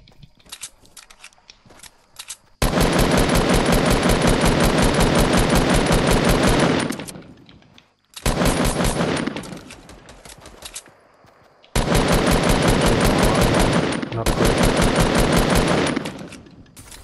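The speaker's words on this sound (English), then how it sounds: "There's one shooting me." Automatic weapons fire in the Fortnite video game during a squad match, rapid bursts of shots in two long stretches with a shorter burst between, loud and close, with no talking.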